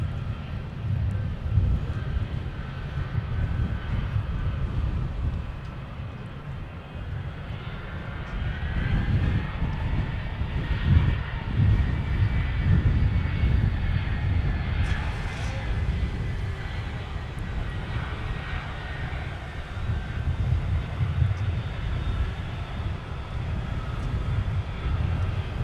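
Delta jet airliner on Flight 2122 to Los Angeles departs Minneapolis–St. Paul airport, producing a loud, sustained low engine roar that swells and holds, heard from a distance outdoors.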